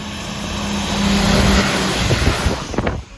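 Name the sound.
timber lorry passing on road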